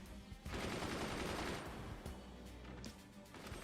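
Sustained barrage of artillery and mortar-style fire in the strategy game Forts, a dense rumbling roll of blasts and crackling impacts that swells loud and stays heavy throughout, with no voices.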